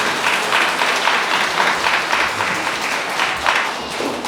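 Wedding guests applaud at a church ceremony with steady, dense clapping that fills the room continuously from start to finish, loud and close, with no talk over it.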